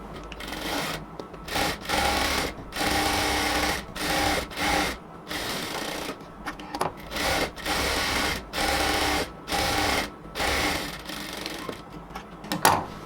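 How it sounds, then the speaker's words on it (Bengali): A sewing machine stitches the side seam of a salwar in repeated short bursts of running, each broken by brief pauses, close and fairly loud with no talking. "একটা পাশ সেলাই করার পর আমরা অপর পাশটাকেও সেলাই করে নিব।"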